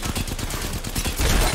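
Upgraded gun in Apex Legends firing a sustained rapid burst, dense loud rattling shots close up with no pauses and a slightly heavier final stretch.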